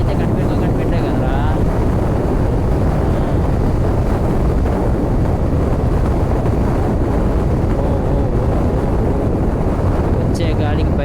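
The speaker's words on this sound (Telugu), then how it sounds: "వచ్చే గాలికి బైక్ మొత్తం షేక్ అవుతుంది" Strong wind buffets a Pulsar N250 motorcycle riding along an empty highway in Karnataka, producing a constant loud, rumbling roar across the microphone that never lets up.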